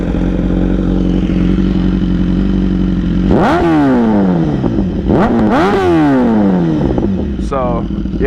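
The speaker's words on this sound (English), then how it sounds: "Now I hope the mic picks up at least half of what this exhaust sounds like," A BMW S1000RR with an aftermarket exhaust and BrenTune ECU flash idles loudly up close, then revs hard twice in quick rising and falling blasts, followed by a shorter blip.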